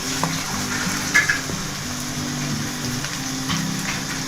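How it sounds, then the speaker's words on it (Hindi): Chicken and rice for Chinese-style fried rice frying in a pan, a steady close sizzle with a few brief stirring scrapes and no voices. "चिकन ऐड कर रहे हैं। चावल ऐड कर रहे हैं।"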